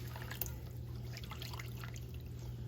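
Roughly four cups of water poured into a pan on a stovetop while making beef stroganoff with ground turkey, a steady trickling pour running throughout under a constant low kitchen hum.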